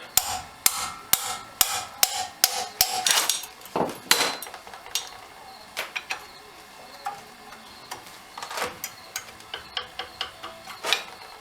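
Hammer smacks on the front brake assembly of a 2006 Ford F350 dually truck: a rapid series of sharp metallic strikes, loud and close, with a few heavier blows in the middle and quicker taps toward the end.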